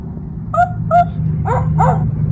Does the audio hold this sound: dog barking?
yes